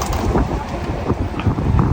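Strong wind buffets the microphone, a loud rumbling gusting roar that continues throughout with uneven swells.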